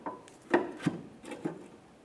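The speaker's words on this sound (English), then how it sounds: "We'll take this and slide it into position." A new rear forward lower control arm on a 1994–1997 Honda Accord slides into place with a few short knocks and scraping rubs. Several close, moderately loud contacts come over about two seconds, with no talking.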